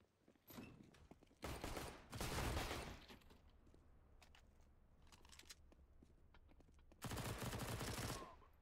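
Video game gunfire in bursts: rapid automatic fire crackling in several loud volleys separated by quieter gaps, with a final sustained burst near the end.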